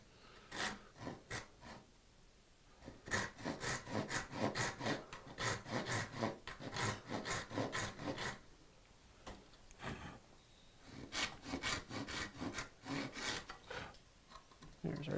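Rhythmic rasping strokes of a hand saw cutting wood for mitered dovetails, close and steady in two long runs of back-and-forth cuts with a short pause between.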